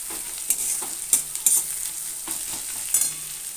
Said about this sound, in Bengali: দেখতেই পাচ্ছ পেঁয়াজটা একটু লাল লাল ভাজা হয়ে গেছে।